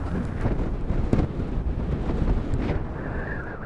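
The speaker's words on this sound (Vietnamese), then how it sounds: "Ui, gió to quá." Strong wind on the coastal road at Vinh Hy, Vietnam, buffets the microphone in a loud, continuous rumble and roar with gusty surges throughout.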